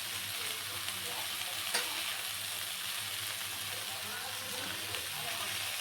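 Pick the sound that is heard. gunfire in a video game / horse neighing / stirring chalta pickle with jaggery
stirring chalta pickle with jaggery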